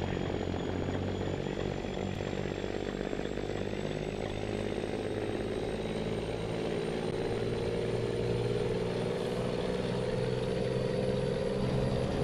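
Steady, droning Ford Cargo truck engine in a Brazilian Euro Truck Simulator game, a constant low rumble with a tone that slowly rises, loud and unbroken with no talk.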